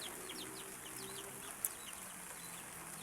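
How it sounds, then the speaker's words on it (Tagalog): Fighting-breed chickens and roosters kept in a yard on a rainy morning cluck and call faintly in the distance, short scattered cries over a soft steady background, with no talking. "Mga manok ng biyanang ko"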